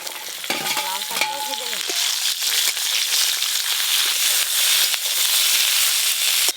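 Chopped potatoes and bottle gourd greens hit hot oil in a frying pan, setting off a loud, steady sizzle with stirring scrapes and crackles, after a brief clatter at the start.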